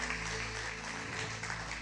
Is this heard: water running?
no